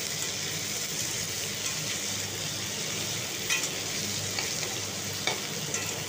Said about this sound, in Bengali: এরপর আমি সয়াবিনগুলো দিয়ে দিচ্ছি, সয়াবিনগুলো একটু ভেজে নিলে সয়াবিনগুলো খেতে ভালো হবে।